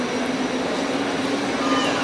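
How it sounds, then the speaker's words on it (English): Steady rumbling inside a train bound for Sopot, Poland, a constant broadband roar with a low hum running through it, no voices. "Made it onto a train that goes to Sopot."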